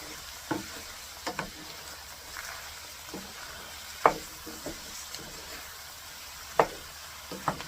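Cauliflower with garlic and mushrooms frying in a skillet, giving a quiet steady sizzle broken by occasional stirring scrapes and clicks, with no talking.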